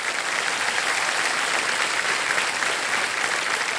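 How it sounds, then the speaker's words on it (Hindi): Studio audience applause on a Hindi TV quiz show, KBC season 17, for contestant Jigna: a steady, dense wash of clapping that holds evenly loud throughout. "एक बार जोरदार तालियां बज जाए जिग्ना जी के लिए।"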